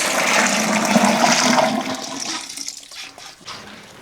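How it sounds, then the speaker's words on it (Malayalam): Ground grape juice, made from 12 kg of grapes, pouring into a large vessel, a loud rushing gush of liquid that is heavy at first and then thins and trails off, with no voices. "ഈ അരച്ച് വെച്ചിരിക്കുന്ന ജ്യൂസ് അങ്ങോട്ട് ഒഴിക്കാം"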